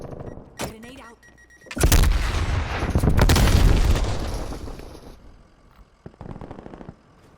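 A grenade goes off in a video game firefight, a loud booming blast that rumbles and fades over a few seconds, with a few sharp gunshots and faint voices before and after.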